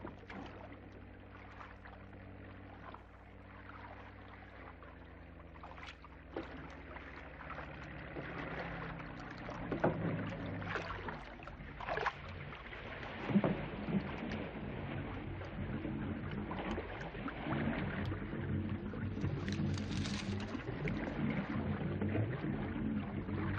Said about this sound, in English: It's a patrol boat.